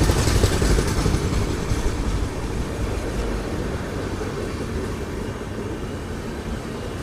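The Janmabhoomi Express rumbles past a railway crossing, a loud, steady broadband roar of wheels and carriages that fades slightly as it goes by, with no talk.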